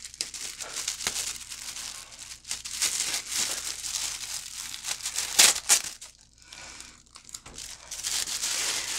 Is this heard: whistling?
no